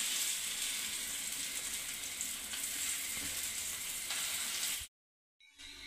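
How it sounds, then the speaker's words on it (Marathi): Ginger and asafoetida sizzle steadily in hot oil for a Rajasthani mirchi vada filling, a loud continuous frying hiss that cuts off abruptly near the end, leaving brief silence before faint sizzling resumes. "आलं थोडंसं परतवून घ्यायचं आणि नंतर हिंग घालायचा"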